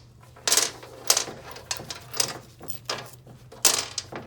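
Sharp metallic clicks and rattles from a 10mm socket working bolts loose on a high-volume vane-type pump from a 2008 Nissan Altima JF011E CVT, arriving as several separated bursts over a steady low hum.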